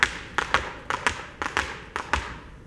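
Tap dance shoes strike a hard floor in pullback steps, sharp double taps repeating in a steady rhythm, close and fairly quiet with no talk.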